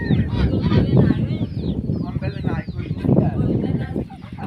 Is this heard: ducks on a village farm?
yes